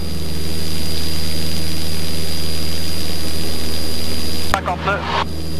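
A light aircraft engine roars loud and steady through the takeoff roll, with cockpit noise throughout and a brief voice near the end.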